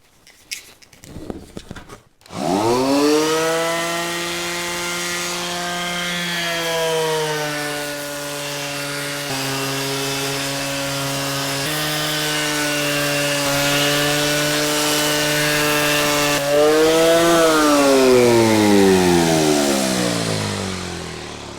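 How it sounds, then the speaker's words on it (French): A Metabo power sander works a surface continuously, starting up after a few brief knocks and holding a loud, steady motor whine and abrasive rasp near the microphone, with slight shifts in pitch as pressure changes. "je vais faire 1 minute de ponçage avec la métabo"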